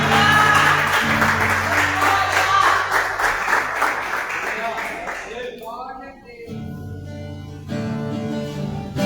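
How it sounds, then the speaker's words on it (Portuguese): A church congregation applauds during worship, a dense wash of clapping that fills the first several seconds, then thins as musical tones and voices rise through the rest of the clip. "Você pode aplaudir esse Jesus."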